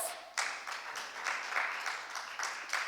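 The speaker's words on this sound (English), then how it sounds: "Please welcome him with a round of applause." An audience at an HR technology summit applauds with a steady wash of clapping hands, moderately loud and continuous for a few seconds.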